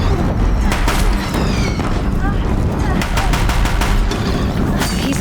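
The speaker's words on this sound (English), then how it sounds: "If the Deathbringers keep firing, this bridge will go." Deathbringer machine gunfire in Horizon Zero Dawn, a dense, continuous barrage of rapid shots and booming impacts that stays loud throughout, with game music and effects layered over it.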